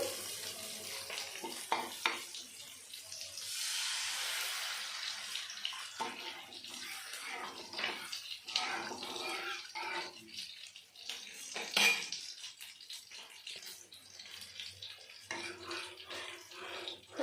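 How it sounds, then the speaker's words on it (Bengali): Water poured into a pan of fried mustard paste for a fish curry, a rushing, splashing pour with metallic clinks and scrapes of the pan and utensils, fairly quiet and close. "সর্ষাটা আমি ভালো করে ভাজা ভাজা করে নিয়েছি এবার আমি দিয়ে দেব জল"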